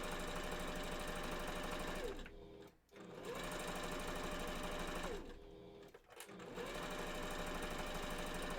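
A sewing machine runs in fast continuous bursts, stitching a second pass around a fursuit bandanna, with two brief pauses between long steady runs and no talk.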